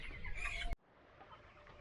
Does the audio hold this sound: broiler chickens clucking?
yes